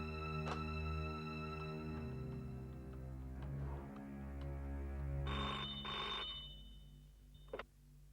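A telephone rings in a TV serial scene as a call to a hospital is placed, a tonal ring that repeats over a background music bed, with a short click near the end.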